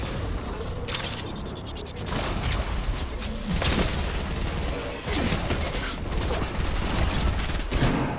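Gunfire in Fortnite: rapid, loud bursts of shots and sharp cracks spread across several seconds, dense and continuous with sudden louder spikes near the start, middle and end, with no talking.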